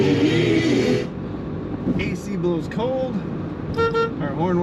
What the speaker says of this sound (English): Our horn works.